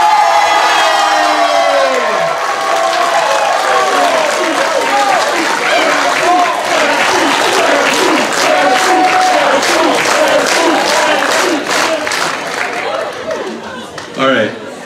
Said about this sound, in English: can you give Jesse a quick round of applause here?